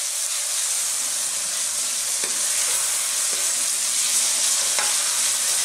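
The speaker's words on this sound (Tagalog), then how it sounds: "ilalagay na natin ang ating beef strips. So, papupulahin po natin yung baka natin" Beef tenderloin strips browning in a hot pan give a steady, close sizzle with a few light clicks of stirring and no talk.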